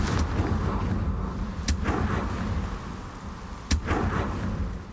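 Two Confringo spell blasts go off in the Hogwarts Legacy video game, each a sharp, bright crack with a short rumbling tail, spaced about two seconds apart over a murmuring game background.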